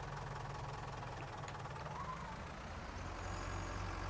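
A tractor engine in Farming Simulator 19 drones steadily at a low, even idle-like rumble, continuous and fairly loud throughout with no speech.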